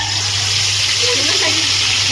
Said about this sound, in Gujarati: ચાલો હવે આપણે વઘાર કરવાનો છે